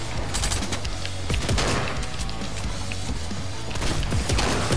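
Dense, rapid gunfire crackles in a video game match, with overlapping shots and volleys continuing loudly without pause.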